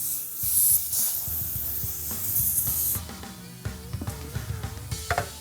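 Compressed air hissing out of a tire valve core on a rare Mopar car while the core is screwed in at around 40 psi, loud close bursts of hiss that cut off and then sputter in short spurts.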